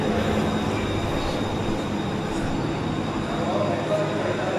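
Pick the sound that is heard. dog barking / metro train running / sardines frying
metro train running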